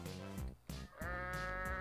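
A goat bleats in the video game Goat Simulator, two or three loud, wavering cries in quick succession at close range.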